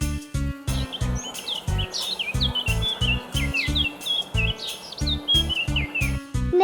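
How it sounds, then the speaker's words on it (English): Birds chirp and tweet in quick, overlapping bright calls over a steady rhythmic thumping beat, lively and close throughout. "Birds."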